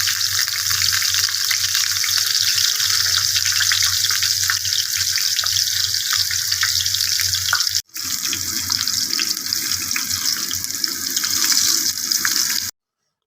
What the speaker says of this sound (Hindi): फ्राई पैन में ऑयल गरम करके भिंडी डालेंगे